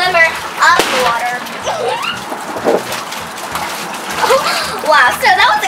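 A child splashes while swimming underwater in a pool, with bursts of splashing and sloshing water up close, mixed with children's voices talking and squealing.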